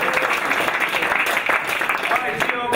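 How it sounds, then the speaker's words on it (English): Round of applause at a water polo team awards banquet, steady dense clapping from the gathered crowd throughout with voices mixed in. "round of applause for Frankie."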